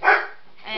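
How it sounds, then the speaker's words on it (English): Dogs bark indoors at the mail carrier, giving one loud close bark and then the start of another within a second, with a person's voice briefly heard. "excuse the dogs"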